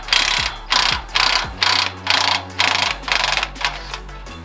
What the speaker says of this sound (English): Oh yeah, this bearing's wiped out.